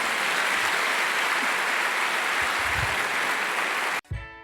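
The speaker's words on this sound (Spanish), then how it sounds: "Dale un aplauso bien grande al Señor." A church congregation gives a long, loud burst of applause, dense and sustained, ending abruptly as music begins.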